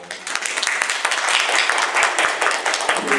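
An audience applauds for the student government association secretary at a college general council meeting, a dense, steady patter of many hands clapping at close range for about three seconds.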